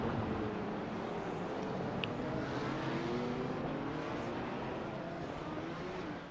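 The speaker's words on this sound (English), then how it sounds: "Porsche coming down here inside" A Porsche race car in the iRacing sim, in a 12-hour endurance race at Hockenheim, drones steadily at close range, its engine note shifting as it passes amid a continuous wash of other engines.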